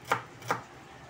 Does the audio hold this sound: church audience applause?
no